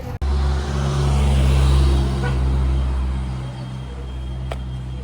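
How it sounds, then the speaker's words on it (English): Steady engine drone and road rumble from inside a bus travelling to Chalchuapa, El Salvador, loud and continuous with a low hum and a brief sharp bump at the start. "So we're on a bus right now, taking us to Chalchuapa"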